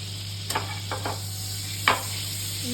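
Butter melting in a hot pan on a home stove, giving a soft steady sizzle over a constant hum, broken by a few brief scrapes and clicks of stirring.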